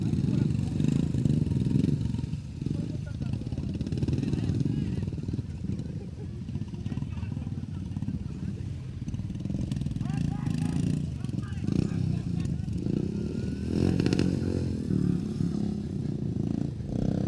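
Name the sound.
motorcycles playing motoball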